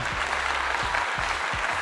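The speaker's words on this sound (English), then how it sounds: "Round of applause for Big Jewel." A crowd gives a round of applause for Big Jewel at the Augustefest live show, a steady, close wash of clapping over a regular low thudding beat.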